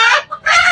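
A hen in a breeding pen gives two loud, close clucks with a short gap between them.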